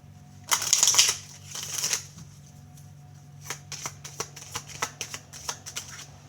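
Tarot cards being shuffled close up: two bursts of riffling at the start, then a run of crisp, separate card snaps and taps in an uneven rhythm, with no talking.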